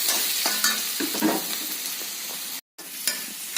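Onions and turmeric powder stirred as they fry in a pan for a Kerala-style egg roast: a steady close sizzle with spoon scrapes, briefly cutting out near the end.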